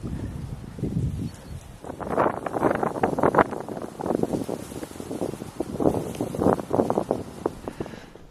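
Strong side wind gusts in uneven bursts by a river, rising and falling in loud surges that buffet the microphone.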